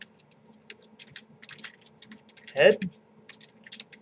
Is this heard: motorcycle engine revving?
no